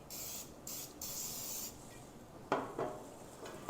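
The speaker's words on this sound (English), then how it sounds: "I'm going to spray my loaf pan" Cooking spray hisses in short bursts into a loaf pan for cinnamon bread, three close spray blasts followed by a few soft rubbing and clattering handling sounds, with no talking.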